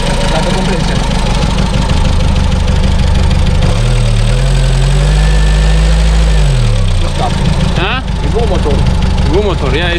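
A 1991 Dacia 1310 estate car engine runs steadily nearby, a loud rough idle that rises briefly in pitch and then settles back, with people talking over it.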